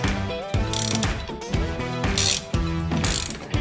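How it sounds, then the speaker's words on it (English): Ratchet clicking steadily while turning a fastener on a Ram 1500 front shock during a replacement, a close mechanical ratcheting over background music. "Put your ratchet or your socket,"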